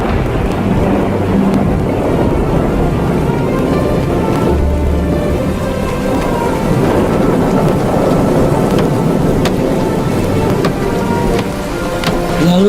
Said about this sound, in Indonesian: Lalu turunlah hujan